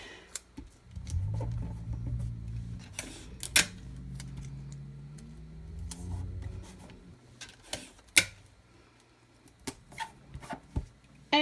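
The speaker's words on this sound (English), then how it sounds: "I'm going to use my heat tape, and I'm going to tape it down" Heat tape is pulled and pressed down to hold a sublimation design on a black 100% cotton T-shirt, making soft sticky peels and rubs punctuated by a few sharp tearing clicks, close and quiet.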